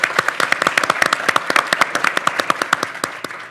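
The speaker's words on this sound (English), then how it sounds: "round of applause to my partner in crime, Hillary DeBlois" An audience claps in a quick, dense patter of individual hand claps, moderately loud and close, with no voices over it.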